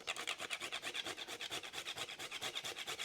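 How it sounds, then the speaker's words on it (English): Fresh whole nutmeg grated on a handheld rasp with a collecting shield, giving a steady, close rhythmic scraping of quick even strokes, alone with no talk. "So I have my rasp that has a shield on the back of it where it collects whatever I"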